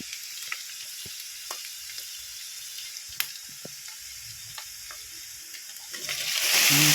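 Shredded chicken sizzles steadily in a hot pan for homemade chicken pastel, with a few stirring clinks. The frying hiss grows louder and brighter toward the end, and no one speaks.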